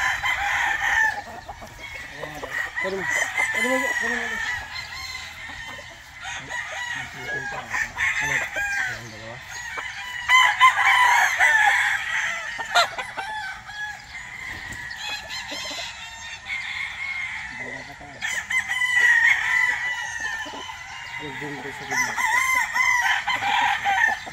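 Several roosters crow repeatedly at a gamefowl farm, loud and near, with clucking hens in between and a voice talking faintly underneath.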